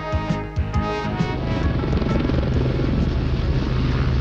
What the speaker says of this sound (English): the Westland 30 has uprated engines, a robust wheeled undercarriage, and above all, a large open cabin